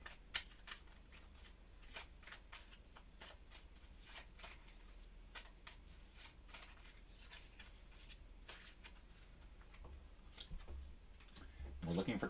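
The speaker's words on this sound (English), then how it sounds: "Shuffle this up." A deck of cards is shuffled over and over during a solo board game of Robinson Crusoe, the crisp riffles and snaps quiet and close, and speech is faintly present.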